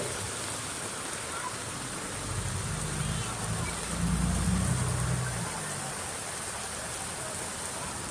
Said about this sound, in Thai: โอ้โหฝนตกหนักแล้ว